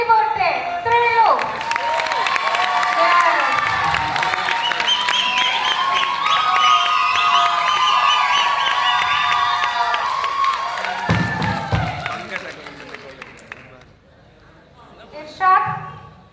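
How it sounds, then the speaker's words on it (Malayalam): An audience at a youth icon award ceremony breaks into sustained applause and cheering that fills most of the stretch, loud and steady, then fades near the end, with voices mixed in. "ഒരു കയ്യടി പോട്ടെ"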